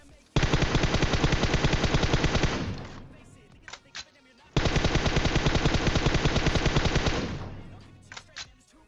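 Automatic gunfire in the battle-royale game PUBG rattles in two long, dense bursts of rapid shots, each lasting over two seconds. A few short separate shots follow each burst. The fire is loud and close, with no talk over it.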